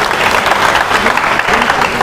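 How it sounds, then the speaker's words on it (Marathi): A crowd claps loudly and steadily, a dense burst of applause filling the room without pause. "तर मॅडमसाठी पुन्हा एकदा जोरदार टाळ्या होऊ द्या."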